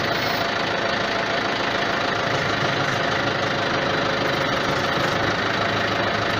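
A Yanmar FX 305 tractor engine runs steadily at close range, a continuous dense mechanical drone with a slight knocking texture while the rear tiller's hydraulic side tilt operates, with no talk.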